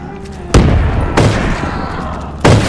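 Three heavy booming blasts from the Nutcracker shotgun in a Lethal Company zombies mod of Black Ops, each a sharp thump with a rumbling tail, spaced unevenly about a second or more apart.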